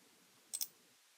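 A computer mouse clicks twice in quick succession, crisp and close, while working in Revit; quiet otherwise.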